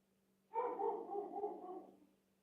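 A single dog's drawn-out bark or yowl, close and fairly loud, lasting about a second and a half over a steady low hum, with no talk.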